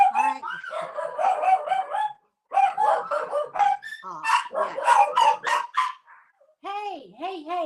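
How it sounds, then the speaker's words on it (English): Several dogs in a house bark and yap in loud, overlapping bursts close by, pausing briefly before a higher, yelping round of barks, with a person's short exclamation among them. "There's 4 dogs in this house. It gets a little loud."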